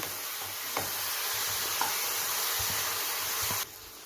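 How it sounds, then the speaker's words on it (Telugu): Tomato fries with masala, coriander powder and turmeric in a pan, giving a steady hissing sizzle with a few soft stirring clicks and scrapes, close by, cutting off abruptly near the end. "ఆ టమాటా కూడా కొంచెం వేగనిద్దాము"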